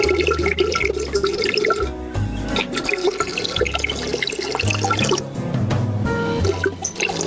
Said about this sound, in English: that is the sound as Fidd aims upward and is actually peeing into his own mouth